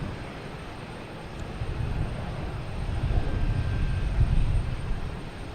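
A Delta Airbus A220 jet takes off at Boston Logan with a broad, low engine roar that swells gradually and holds steady, heard at a distance with no talking.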